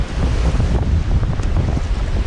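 Loud, close roar of seascape surf with waves rushing against coastal rocks, heavily buffeted by wind noise on the microphone, continuous throughout.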